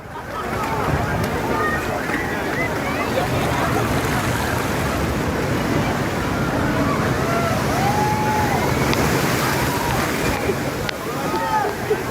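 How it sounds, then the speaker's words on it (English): Massive storm waves flood the streets of a port city in Brittany, France, in a continuous heavy roar of surging, sloshing water and surf, with wind and muffled voices mixed in. "Massive waves driven by the storm flooded the streets of a port city in Brittany, France"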